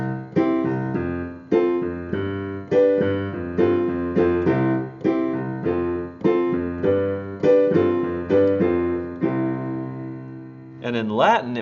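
Piano playing a 1-4-5-4 chord progression with second-inversion chords in an early rock style, steady rhythmic repeated chords, close and clear, ending with a brief higher sound.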